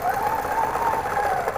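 A sewing machine stitches overlapping circles on a quilt guided by template rulers, a brief, steady, close-up whirr with a fast pulsing rhythm.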